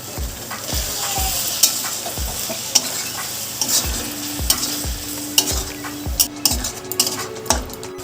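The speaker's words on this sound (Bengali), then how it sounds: "এবার সব কিছু ভালো করে একসাথে বেশ কিছুক্ষণ সময় ধরে কষিয়ে নেব" Spiced goat mutton masala for kaliya is stirred and sautéed in a pan: a sizzle runs underneath while a utensil scrapes the pan in a regular rhythm, roughly one stroke every second, with occasional clinks and no talk.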